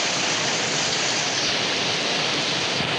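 Torrential, unrelenting rain in rural Konkan makes a thick, continuous rushing hiss that holds steady throughout, loud and close, with no voices.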